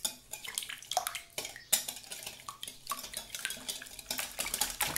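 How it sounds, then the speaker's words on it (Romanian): A whisk clatters against a bowl while beating eggs with sugar, milk and oil for a cake batter, quick irregular metallic clinks and scrapes, close and alone with no talking. "peste ouă voi pune zahărul, laptele și uleiul și cu ajutorul unui tel voi amesteca bine totul."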